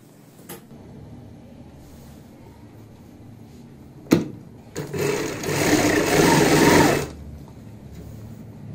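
A sewing machine stitches a hem on box-pleated palazzo pants, starting from the bottom leg opening: a click, then a brief hum and a steady run of stitching lasting about two seconds before it stops, with no talking.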